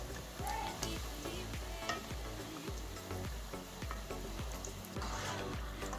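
Peanut-filled briouats fry in oil while being stirred, a faint continuous bubbling sizzle with a regular train of soft knocks and scrapes from the stirring utensil, no talk.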